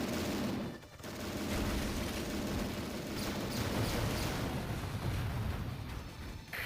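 Sustained gunfire in the Transformers Autobots DS video game, a dense, continuous crackling barrage that runs almost the whole time with only a brief dip near the start.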